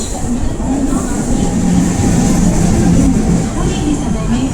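An express train rumbles at a railway station platform, a loud, continuous, low mechanical roar that holds steady with voices faintly mixed in.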